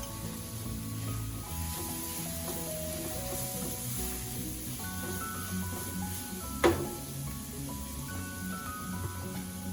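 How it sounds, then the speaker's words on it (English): Curry leaves sizzling in hot oil with garlic and green chilies, a steady close hiss and crackle holding throughout, with one brief sharp pop partway through. "I will also throw in the curry leaves now"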